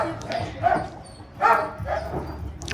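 Several sled dogs in training bark and yip in short bursts, some whining in between, at moderate distance outdoors near Skagway, Alaska, with a steady outdoor hiss beneath.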